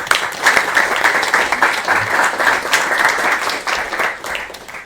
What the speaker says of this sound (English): Give a warm round of applause for Leene.